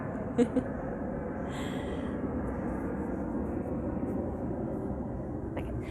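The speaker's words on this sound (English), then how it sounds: "minimizing the airplane noise, but that will pass" A fixed-wing airplane passes overhead, a steady broad roar that fills the whole stretch at moderate loudness, with a couple of brief sharp sounds near the start.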